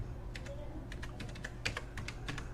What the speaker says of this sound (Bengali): আর রেশন কার্ড নাম্বার এখানে ভালোভাবে টাইপ করবেন